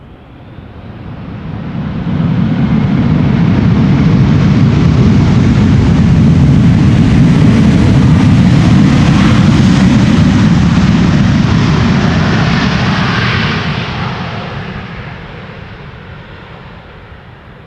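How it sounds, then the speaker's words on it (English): A heavy airliner comes in to land in gusty crosswind at Amsterdam Schiphol, a broad, loud engine roar that swells over about two seconds, holds steady, then fades away as the aircraft passes. "Not the loudest of landings, but definitely a nice one."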